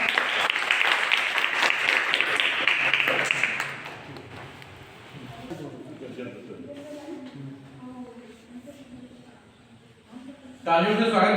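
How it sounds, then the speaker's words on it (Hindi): Audience applause greets a guest at a jayanti (birth anniversary) celebration held by a sociology department: several seconds of loud, dense clapping that then falls away. Speech and other quieter sounds follow. "तालियों से स्वागत किया जाए।"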